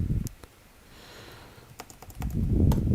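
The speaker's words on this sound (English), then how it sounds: "So much typing." Quick clusters of keystrokes on a computer keyboard, a short burst at the start and another near the end, with soft breathing or sniffing in between and a low rumble under it.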